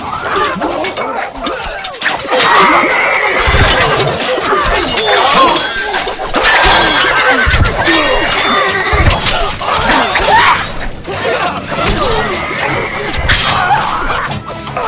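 Horse neighing in Stronghold Crusader amid a busy battle scene, with whinnies rising over clashing, smashing impacts and crowd noise, loud and dense, and voices talking at times.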